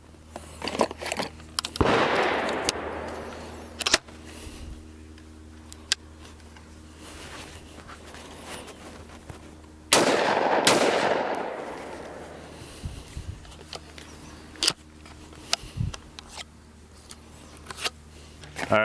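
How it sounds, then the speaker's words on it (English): Stoeger Condor shotgun firing 2 3/4 inch birdshot outdoors: two loud, sharp blasts several seconds apart, each followed by a decaying rumble, with faint clicks and handling noises in between. "All right, we got the Stoger Condor. Let's take some shots."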